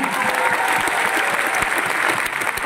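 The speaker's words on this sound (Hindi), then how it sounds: "जोरदार तालियां होना।" Loud, dense applause from a large audience fills a stadium at a company speech event, sustained clapping throughout with crowd noise and no clear talk.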